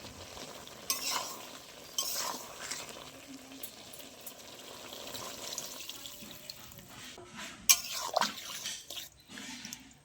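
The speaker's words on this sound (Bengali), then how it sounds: "এবারে আমি অল্প পরিমাণে ভালো করে জল দিয়ে দেবো যাতে আমার ওই সব সবজিগুলো সিদ্ধ হয়ে নরম হয়ে যায়" A spoon stirs ridge gourd and potato with poppy seed in a pan as a little water goes in, giving soft scraping and watery sloshing at a moderate level with a few clinks.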